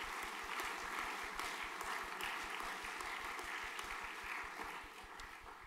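Sustained applause fills a graduation ceremony hall, a dense, steady wash of many hands clapping at moderate loudness that tapers slightly near the end, with no talking over it.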